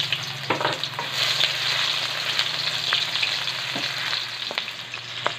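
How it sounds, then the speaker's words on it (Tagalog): Onion and garlic sautéing in a pan for pork sinigang, a steady close sizzle of frying with occasional utensil taps and stirring, no voices. "Manggisa na tayo. Sibuyas at bawang."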